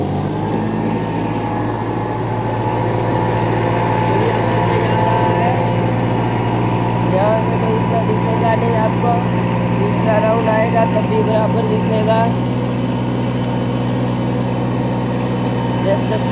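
A 45 hp Kubota MU4501 tractor pulls a two-bottom reversible plough through soil at about 1800-1900 rpm, its engine droning steadily and loudly throughout while someone talks over it.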